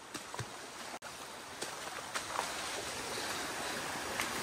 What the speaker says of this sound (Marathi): आता आम्ही जाताना या पर्यामधून चाललोय.